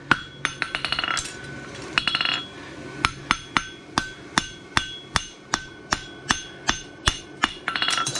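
A hammer strikes a horseshoe bar on an anvil while scarfing it for a forged barshoe, a steady run of about twenty sharp, ringing metallic blows, close and loud, with no talking.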